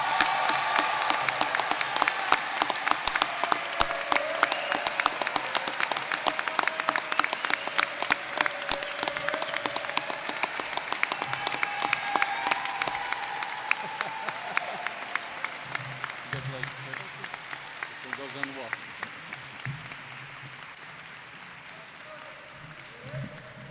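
A graduation audience at Davis Aerospace and Maritime High School applauds an award recipient and salutatorian, with dense sustained clapping that fills the hall for over twenty seconds and gradually thins toward the end.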